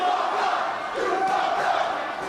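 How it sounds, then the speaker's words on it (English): A wrestling crowd at an indoor event jeers and shouts at a wrestler, a dense, continuous roar of many voices filling the room. "the Meanie encouraging the crowd to get on him for it"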